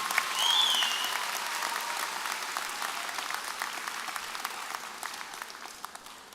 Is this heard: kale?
no